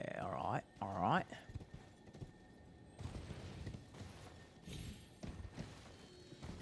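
Horse hooves in the video game Elden Ring, a rhythmic clip-clop of galloping steps with thuds, moderately loud, while people talk over it.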